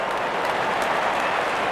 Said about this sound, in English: Good innings and gets a grand applause.